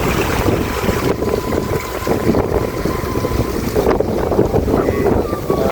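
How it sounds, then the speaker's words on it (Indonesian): Strong gusty wind roars across a mountainside village, buffeting the microphone in loud, continuous rushing waves with brief dips in between. "Karena anginnya cukup besar."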